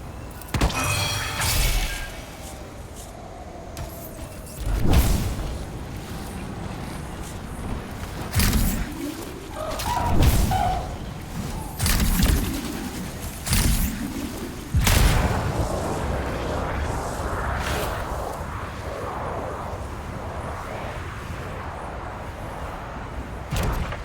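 Explosions and gunfire from the video game Anthem: scattered heavy booms and sharp impacts, some close and loud, others duller, with a rumbling background between hits and no speech.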